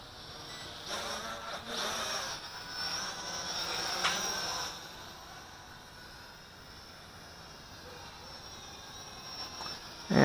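A Helicute H806 Hoverdrone hexacopter flies with a thin, steady high-pitched whine and a low rushing hum, fading slightly midway, with no talk.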